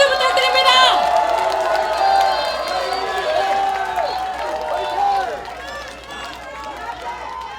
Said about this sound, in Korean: 나경원 공동선대위원장께 다시 한번 힘찬 박수 부탁드립니다.